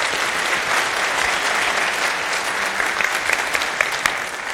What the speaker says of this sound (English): Now, are you going to clap for that?